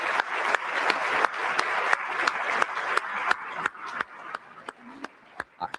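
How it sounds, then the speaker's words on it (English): Conference audience at a commercial real estate forum gives the speakers a round of applause: dense, fairly close clapping with a few sharp individual claps, thinning out toward the end. "Can I get a big round of applause for our speakers?"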